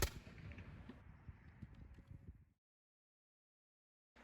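Soldiers fire a musket volley during a manual-of-arms drill: one sharp blast opens, then a rumbling, rattling tail fades and cuts to silence.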